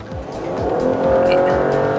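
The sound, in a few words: car engine accelerating at full throttle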